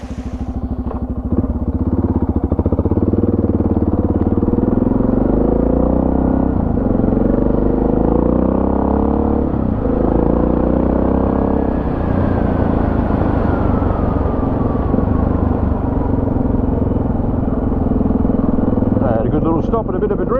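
A Suzuki DR 650 dual-sport motorcycle being ridden up a hill road gives a loud, continuous engine drone that rises and falls in pitch through gear changes, with wind rush over it.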